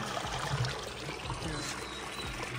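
Cold local stream water pours and trickles steadily in a forest setting while people fill containers, a continuous close splashing flow with brief voices faintly underneath.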